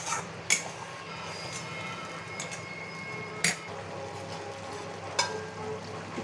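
Potol cooking in a pan with spices and oil as milk is poured in, giving a soft steady sizzle under a few sharp metallic clinks of a spoon stirring against the pan.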